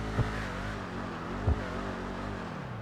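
Engine of the Ruiner ZZ-8 car in GTA 5 Online idles and hums steadily at low volume, with two brief thumps breaking the drone.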